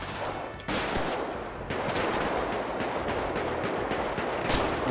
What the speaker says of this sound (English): Where are we getting shot from?